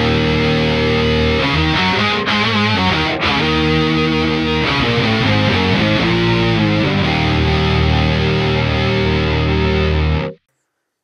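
Two distorted electric guitars, one panned right and one left, play with a bass through a pedalboard of effects, a dense, loud riff running steadily for about ten seconds before stopping abruptly.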